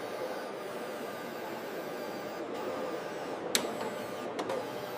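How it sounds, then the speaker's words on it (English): Digital printer in a factory printing the national crest on an Argentina football jersey, a steady faint mechanical hiss and whir with a few brief clicks and ticks near the end. "The national crest is digitally printed."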